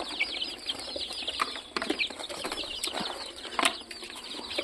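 Chickens on a poultry farm flap their wings in repeated bursts and give scattered clucks and calls, close by, with no talking.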